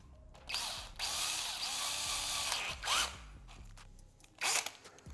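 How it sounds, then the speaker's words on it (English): A power drill whirs close by, drilling a hole during a front lip install on a BMW 435i: a short burst, then a long sustained run, then two more brief revving spurts with pauses between. "We can drill a hole through here."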